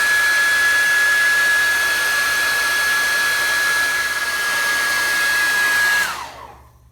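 A hair dryer blasts over a watercolor painting, a loud continuous whooshing hum with a steady whine that runs for about six seconds before switching off and winding down into silence.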